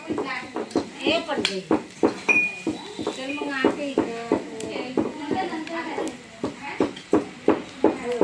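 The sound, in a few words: grinding mustard seed paste in kitchen, pots and dishes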